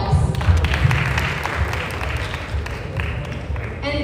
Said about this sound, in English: which deserves a big round of applause